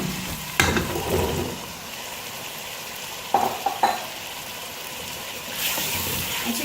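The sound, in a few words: pumpkin added to frying masala and stirred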